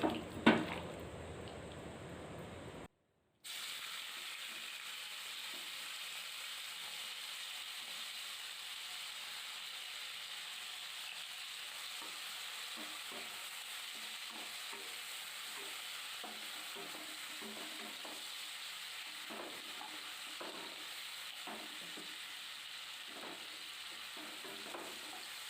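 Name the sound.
frying prawns with dried red chillies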